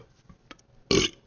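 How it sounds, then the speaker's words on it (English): A single short, raspy burp, close and fairly loud, after a few faint quiet sounds. "Oh, excuse me. Are you burping?"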